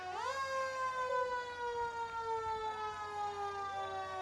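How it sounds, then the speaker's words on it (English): A fire truck siren wails at a homecoming parade, a loud, close tone that sweeps up and then holds a long, slowly falling pitch, steady and alone without talk. "Looks like the ambulance and the fire truck are here with us today."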